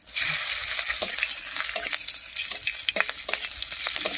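Slit green chillies dropped into hot tempering oil, a steady loud sizzle with scattered spitting crackles and brief stirring scrapes throughout.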